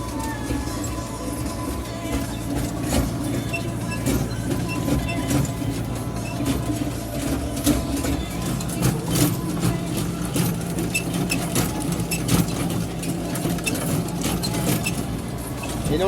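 A tractor pulls a rotary spader through a market-garden vegetable field at very slow speed, giving a steady, continuous engine drone with mechanical rattling and clatter that persists unbroken throughout.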